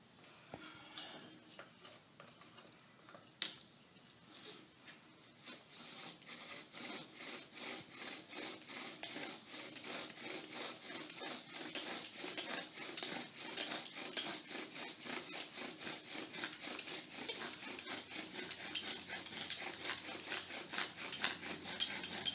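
A bow drill spindle spins against a wooden fireboard, burning in a new hole for primitive fire-making. Close, rasping friction strokes start softer, then settle into a fast, steady back-and-forth rhythm that grows louder, with no voices.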